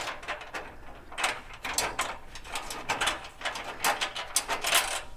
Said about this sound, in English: I have a long bolt with a washer. We'll just get these in hand tight.